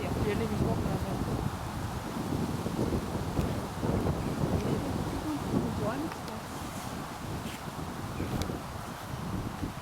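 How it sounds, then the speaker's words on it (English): Strong outdoor wind buffets the microphone at a horse stud farm, a steady broadband rumble and roar that lasts throughout, with faint voices underneath. "It is quite windy out."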